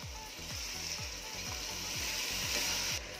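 Sliced radish (mooli) sizzling and frying in a pan with spices, a steady close hiss with rhythmic stirring scrapes of a spoon every half second or so, no talking.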